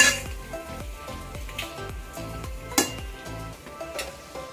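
Carrots and mixed vegetables are sautéed in a pressure cooker for pulao, with a steady sizzle broken by repeated clinks and scrapes of a metal spoon against the pot.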